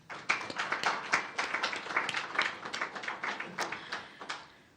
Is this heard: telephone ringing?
no